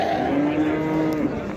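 Cattle mooing at the Wednesday livestock market in Shahrisabz: one long, loud, low moo holds steady for over a second close by, with no talking.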